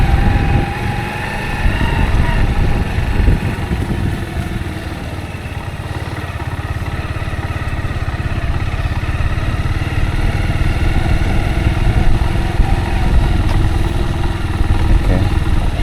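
Motorcycle engine running steadily while riding on a road between Beihai and Qinzhou, China, a loud continuous drone with rattling clatter and wind noise throughout, no voices.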